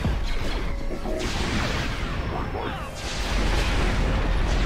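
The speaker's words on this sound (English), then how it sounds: "Bombardment available." Orbital bombardment in the Star Wars strategy game Empire at War: Forces of Corruption, a dense, continuous roar of booming explosions and crashing impacts that swells, dips briefly, then surges again, loud and sustained throughout.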